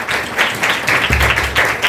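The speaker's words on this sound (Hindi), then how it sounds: "जोरदार तालियां बजाएं इस सच्चाई के लिए।" Applause from a church congregation during a sermon fills the space with a steady wash of many hands clapping, swelling and receding in waves for the whole stretch.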